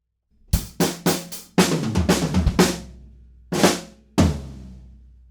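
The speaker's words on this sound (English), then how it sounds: "I'll play that whole fill up to speed." Drum fill on an acoustic kit played up to speed for a pop-punk song, a burst of sharp snare and tom hits in quick succession followed by a few spaced, heavier accents ringing out, close and alone.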